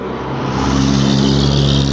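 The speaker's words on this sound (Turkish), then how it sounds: "şu otobüs geçsin de, kamyon geçsin de" A heavy vehicle, a bus or truck, rumbles past loud and close on a road through an old market area in Karahöyük, Denizli, its steady engine roar swelling and holding for a couple of seconds with no talk.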